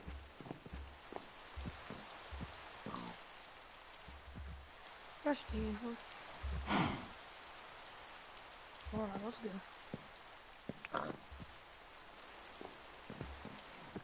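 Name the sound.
rain falling in Minecraft video game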